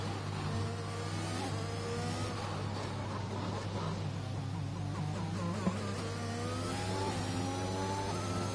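A racing car engine at the Singapore Grand Prix in a racing video game drones continuously at steady high revs, with shifting pitch, under a faint commentator's voice.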